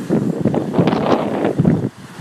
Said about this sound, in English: See how strong the wind is there.